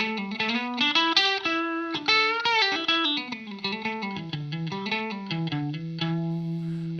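Electric guitar played through a Seeker Effects Lineage Face fuzz pedal, a melodic run of fuzzy, saturated notes that ends by settling into a long sustained tone, with no talking.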